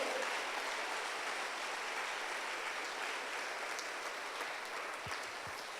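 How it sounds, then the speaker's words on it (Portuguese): Church youth congregation applauding at a revival service, a steady wash of dense clapping that holds for the whole stretch, loud and even, with a few brief low thumps near the end. "Então dá um aplauso ao Senhor como um jovem avivado."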